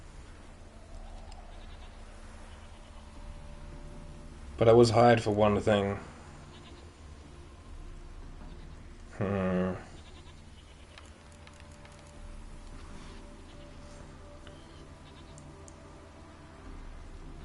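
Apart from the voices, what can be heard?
goats bleating in video game The Witcher 3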